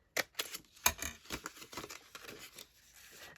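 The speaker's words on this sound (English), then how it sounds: "the reason I'm using the scissors to get me started with the hole" Faint, irregular snips and rustles come from scissors starting a hole in paper for a craft window pocket, a string of small cutting clicks close by.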